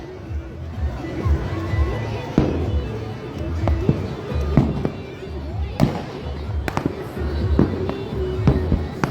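Fireworks burst at irregular intervals during a Chhath Puja celebration in Nalasopara, sharp cracks and thuds over a murmuring crowd, with some bangs close and loud and others softer and farther off.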